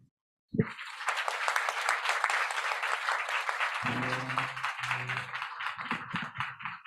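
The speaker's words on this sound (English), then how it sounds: "please join me to applaud the distinguished panelists" After a moment of silence, applause breaks out sharply from the audience at a green finance seminar in Tokyo for its panelists. It is sustained, crisp clapping from a moderate crowd, with a voice speaking briefly partway through.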